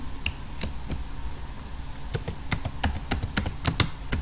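Keys on a computer keyboard are typed in short irregular bursts of crisp clicks, close and moderately loud over a faint room hiss, with no talking.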